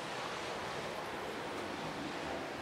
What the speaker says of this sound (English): The sea lapping